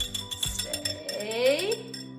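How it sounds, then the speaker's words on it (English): A utensil clinks and scrapes against a glass dish while eggs are stirred into a Brussels sprouts and leek casserole, with quick rattling taps followed by a softer ringing tone, heard close up. "All right, mix in my eggs."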